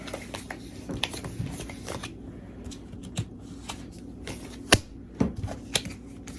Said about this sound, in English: Then I pick up 5 cards.